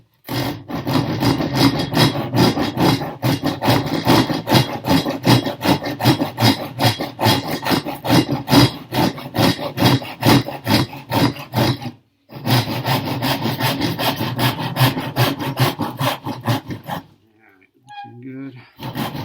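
A chisel works wood while shaping a wooden phone and tablet holder, making fast, rhythmic scraping strokes close by. The strokes are steady and dense, break briefly twice, then resume.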